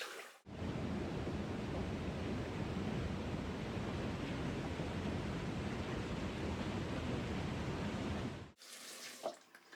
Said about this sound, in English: All right, let's rinse off.